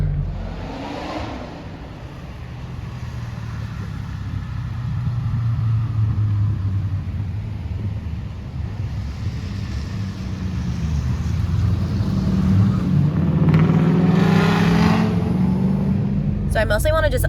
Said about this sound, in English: I'm gonna get the truck parked and go for some ride-alongs.